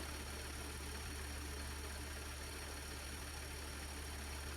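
An Audi/VW 3.0T supercharged engine idles just after a timing chain replacement, a steady, smooth low hum running evenly throughout with no other sounds.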